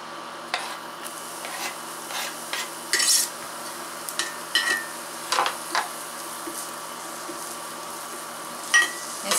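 Cauliflower frying in a pan for vegan tostadas, with a soft steady sizzle broken by scattered scraping stirs and brief louder bursts, fairly quiet and with no talk.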